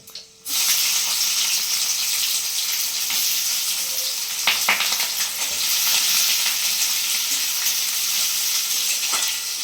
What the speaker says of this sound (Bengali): এটা একটু লাল করে ভেজে নেব